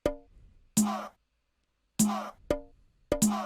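A small percussion loop from an Afro house beat, hi-hat and tom hits layered together: sharp tonal thumps with bright tops strike in an uneven pattern, four hits spaced across the bar with short pauses between, close and dry.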